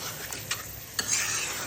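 Meat sizzles in a pan with oil and spices as it is stirred, two quick spoon scrapes cutting through a continuous frying hiss in a brief moment with no voices.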